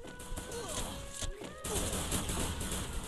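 An AUG rifle firing in rapid bursts in the video game Garena Free Fire during a Clash Squad match, loud and continuous with game music and a voice talking underneath.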